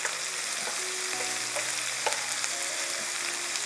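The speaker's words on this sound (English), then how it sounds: "Just want to give them a good, nice little cooking there on the flesh side." RedClaw crayfish fry flesh side down in a pan with butter, giving a close, steady sizzle with small crackles and pops and no talking.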